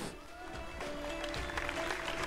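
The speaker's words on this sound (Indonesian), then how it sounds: "Beri tepuk tangan sekali lagi buat ISEF." Crowd clapping fills the clip steadily from start to finish at a talk show on Islamic economics, a broad wash of applause with some voices mixed underneath.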